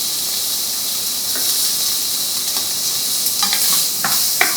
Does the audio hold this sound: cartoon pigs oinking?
no